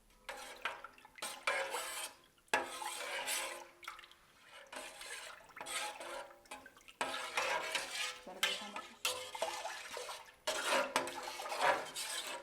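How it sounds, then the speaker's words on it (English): Cheese curds for Gouda are stirred in a pot, making repeated wet sloshing and swirling bursts with brief pauses between strokes, close and fairly quiet, with no voices. "we're going to stir the curds 3 times within 15 minutes"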